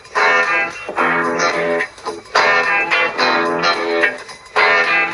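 Funky guitar riff from a song, a choppy rhythmic figure in bursts with short gaps, loud and close and heard alone.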